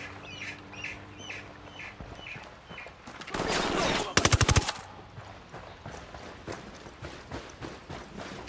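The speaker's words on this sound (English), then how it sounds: "Opening fire." Video game gunfire in Ghost Recon Wildlands: a loud, dense burst of rapid automatic shots in the middle, with a sharp cluster of cracks and scattered quieter shots and background noise before and after.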